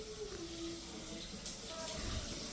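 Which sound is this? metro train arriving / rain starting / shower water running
shower water running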